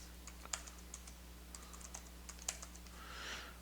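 Soft, irregular keystrokes tap on a computer keyboard while a password is typed, close and quiet over a low steady hum.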